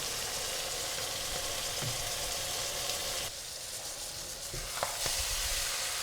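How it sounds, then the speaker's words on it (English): Chicken curry sizzling in a hot pan on high heat, a steady loud frying hiss throughout with a couple of brief pops and clicks, no voices. "Just let it sizzle and get a bit of heat directly from the pan before I add in the coconut milk."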